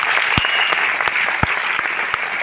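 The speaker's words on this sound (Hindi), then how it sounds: "एक बार पीसी सर के लिए जोरदार ताली यार" An audience at a success celebration in Delhi gives PC sir loud, sustained applause. The dense clapping holds steady throughout, with a few sharper claps standing out close by.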